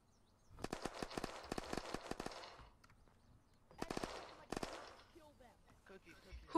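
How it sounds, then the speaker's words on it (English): Gunfire in the survival video game Unturned, rapid automatic bursts in two clusters with a quieter gap between, moderately loud, mixed with other game sounds and faint voices. "I told you, they're shooting"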